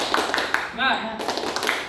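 A group of students in a classroom counseling session claps out a rhythmic spirit cheer, with quick, evenly spaced hand claps close by and a voice chanting along.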